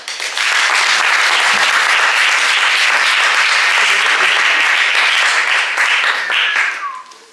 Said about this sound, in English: let's clap people back in